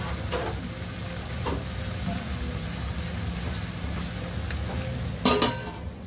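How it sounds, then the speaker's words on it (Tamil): Tomatoes fry and sizzle steadily in a pan for paneer masala, with a few sharp utensil clinks and a louder scrape near the end. No one speaks. "இது நல்லா ஃப்ரை ஆகட்டும் நல்லா இது ஃப்ரை பண்ண நல்லா இது குக்க ஆகட்டும்"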